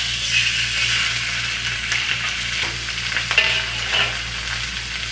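Steady frying sizzle from chicken in hot oil in a wok, continuous and fairly loud, with a low hum underneath and occasional stirring clatter.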